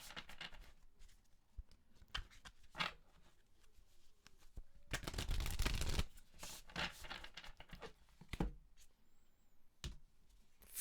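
Tarot cards from the Angel Wisdom Tarot deck are shuffled and drawn in a quiet room, with soft, close riffling bursts and scattered taps and slides, the loudest shuffle in the middle.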